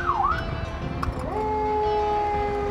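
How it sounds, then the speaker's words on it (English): A fire truck siren tested in short bursts: a quick electronic wail, then a steady rising tone that holds, loud and close with no talking. "Make sure your sirens work."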